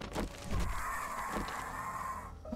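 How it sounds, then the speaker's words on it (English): A chicken clucks and calls in the video game 7 Days to Die, a short close cluck followed by a sustained rooster-like call heard on its own. "I hear a bird."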